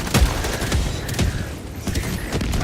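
Sustained automatic machine gun fire from the Helldivers video game, dense rapid bursts of shots running continuously at steady loudness with a few sharper cracks.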